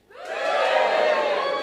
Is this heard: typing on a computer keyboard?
no